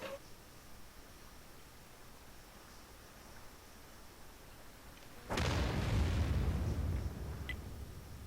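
Artillery shell fired in a tank video game, a single loud boom after about five seconds of quiet ambient hiss, its rumbling roar sustained for nearly two seconds before fading back to background.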